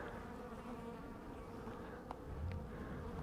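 Soft buzzing of many honeybees at a hive hums steadily at low level, a dense insect drone close to the microphone with no talking.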